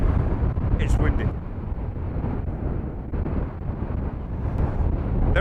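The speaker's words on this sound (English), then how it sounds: "It's windy." Strong wind roars across open moorland near rocky tors, gusting and buffeting the microphone in heavy, continuous bursts.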